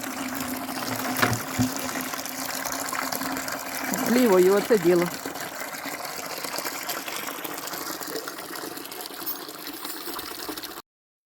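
Water runs steadily from a tap in a continuous rushing stream while someone speaks briefly over it.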